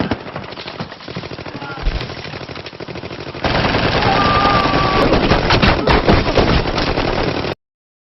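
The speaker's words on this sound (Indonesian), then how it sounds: "Dan di sanalah adu tembak terjadi, di mana 3 anggota polisi tewas di sana." Gunfire in a shootout from the action film The Raid, sustained bursts of automatic weapons fire that rise to a denser, louder barrage midway before cutting off abruptly.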